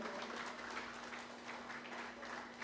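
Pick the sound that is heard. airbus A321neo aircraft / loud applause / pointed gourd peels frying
loud applause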